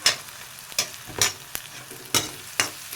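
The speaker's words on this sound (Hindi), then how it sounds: "फ्लेवर बनने के लिए भूनते हैं इसको।" Tomatoes frying in a pan for sarson ka saag, with a loud close sizzle broken by several sharp stirring scrapes about every half second. No voices.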